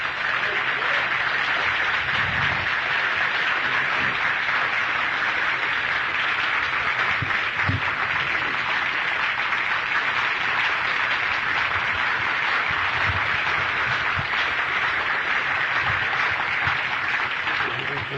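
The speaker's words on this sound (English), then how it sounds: "We don't need any applause yet because we haven't got it yet." Steady applause from an audience at a political talk on the Constitution, filling the whole stretch at an even, moderately loud level with a few stronger claps standing out and no clear speech over it.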